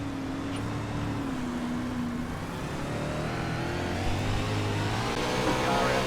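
410 sprint car engines race in iRacing at Williams Grove Speedway, motors revving and accelerating on a restart, loud and continuous, with pitch sweeping upward as the cars pull away.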